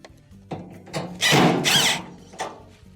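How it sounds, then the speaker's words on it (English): A power screwdriver drives screws back into an LG dryer panel: short whirring bursts with a squealing spin in the middle, close up, and light handling clatter around them. "We'll go around and reinstall our screws."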